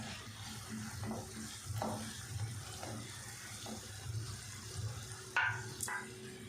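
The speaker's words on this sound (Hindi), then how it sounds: "और साथ ही अब इसको हम मसाले के ऐसे फैला देते हैं और इसमें हम डाल देते हैं अंडे" Eggs slide into spiced masala in a pan, producing a low, steady sizzle with faint stirring and a couple of brief clinks near the end.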